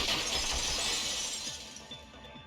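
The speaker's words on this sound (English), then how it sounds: "If it wasn't the window, then what broke to make that sound? A vase." A vase shatters in the video game Danganronpa 2, a loud bright crash of breaking glass-like ceramic that bursts at once and then fades over about two seconds with tinkling debris.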